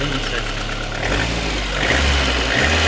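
A LADA Kalina 1.6 car engine with gas fuel runs after a valve clearance adjustment, a steady close idle that rises into a couple of brief revs, with no talk.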